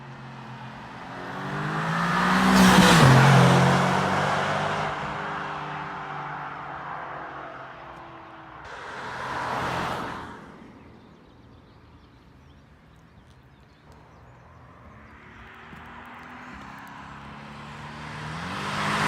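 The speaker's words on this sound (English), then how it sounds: "Let's take her for a spin." A 2020 Mercedes-AMG GT driven on a road, engine swelling and fading in broad surges as it accelerates and passes, with steady tire and road noise in between and no talking.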